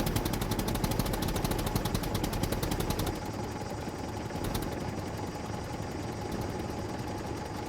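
A tractor engine drives in the survival video game SCUM, its rapid pulsing clatter running steady and close. About midway the tone shifts to a smoother, lower engine drone, with no voices.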